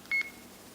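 An AEE S71T Plus 4K action camera gives a short electronic beep as recording starts, one clear tone up close in a quiet room, followed by a fainter second blip.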